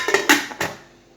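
A metal lid is set onto a pot of boiling zobo drink, giving a few quick close clanks and rattles that ring briefly and fade.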